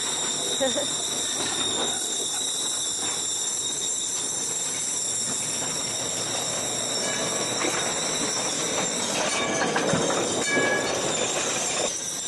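A funicular tram on the Elevador da Gloria in Lisbon rumbles and clatters along its rails, with steady mechanical noise, high squealing tones and occasional clicks throughout.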